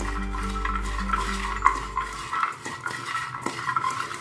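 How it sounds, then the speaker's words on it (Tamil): Sliced snake gourd salad is stirred by hand in a bowl, giving soft, uneven rustling and scraping against the dish, close and fairly quiet, with no talk. "இந்த மாதிரி இதை கையால் போட்டு நல்லா இப்படி கிளறி இருங்க."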